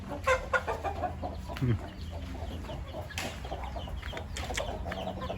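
Fighting-breed chickens on a rural Thai smallholding planted with trees cluck and cackle repeatedly at close range, with a few sharper calls and a steady farmyard background.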